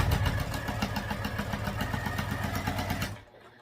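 A sewing machine stitches down each side of a crossbody bag strap. Its motor gives a steady, rhythmic whirring chatter for about three seconds, then stops.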